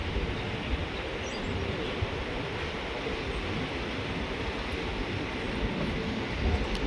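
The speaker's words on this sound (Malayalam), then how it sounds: "ആ വണ്ടി വന്ന ഇവിടെ തന്നെ ട്രെയിൻ എടുത്ത് ഡിപ്പാർട്ട് ചെയ്ത്." The Talguppa–Mysuru intercity express departs a small rural station, its continuous rumbling rail noise steady and fairly loud throughout, with no voices heard.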